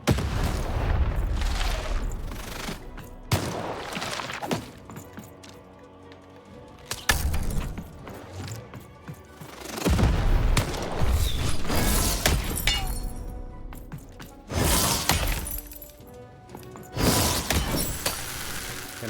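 Several loud booming cannon blasts with shattering debris in the PC game Lost in Random, spaced irregularly amid mechanical clatter and rumbling.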